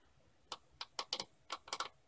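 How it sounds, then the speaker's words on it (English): Buttons on a Raspberry Pi breadboard controller are pressed to send keystrokes, giving a quick irregular series of about eight sharp, close clicks over a quiet background. "If you want to type in on there, press the buttons, you can see that they type keyboard strokes."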